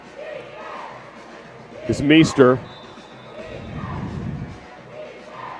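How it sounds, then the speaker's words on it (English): Crowd noise fills a stadium at a women's football game, a steady roar of cheering with a loud burst of shouts rising in the middle, while a commentator talks over it. "They are not pumping crowd noise into the stadium. That is all the crowd."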